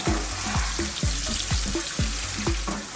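Onions and garlic fry loudly in a pan and are stirred continuously, giving a steady hiss with regular scraping strokes about twice a second.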